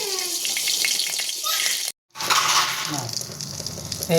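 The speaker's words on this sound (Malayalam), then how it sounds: "അതിൻ്റെ കൂടെ ഇച്ചിരി ബട്ടറും കൂടി ഇടുവാണ് കേട്ടോ." Butter dropped into sunflower oil in a pan for an egg curry gives a loud hiss and sizzle that breaks off briefly and then resumes, close up, with no talk.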